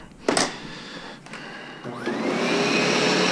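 An upright vacuum cleaner starts on carpet after a couple of sharp clicks and thumps, its motor whine rising into a loud, steady roar that continues to the end.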